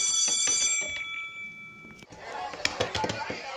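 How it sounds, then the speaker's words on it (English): A school bell rings loudly for about two seconds, then cuts off into a noisy burst of clattering and chatter-like commotion. "The bell is about to ring."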